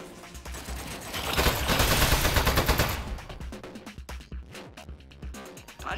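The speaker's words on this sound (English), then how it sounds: "That's a washing machine turret. It's got a gun!" Rapid gunfire bursts from a washing machine turret in the video game Aperture Desk Job, loud and dense for several seconds, then trailing into scattered shots and clanks.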